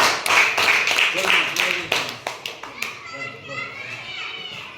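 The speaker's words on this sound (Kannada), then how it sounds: "ಮತ್ತೊಮ್ಮೆ ಅವಳಿಗೆ ಚಪ್ಪಾಳೆ ಹೋಗಲಿ" Children clap for a classmate in a classroom, a dense burst of many small hands slapping together for about three seconds, then thinning out as kids' chatter and voices carry on.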